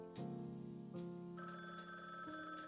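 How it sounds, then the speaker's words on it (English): Telephone ringing in the Frog Detective 3 video game, a bright electronic ring with two quick rising pulses, close and clear with no voices over it. "The phone is ringing."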